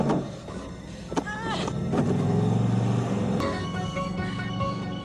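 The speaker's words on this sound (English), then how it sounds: "She takes control of the truck." A truck engine rumbles steadily as the truck is driven in a Michael Myers horror film scene, a loud low drone running under other scene sounds.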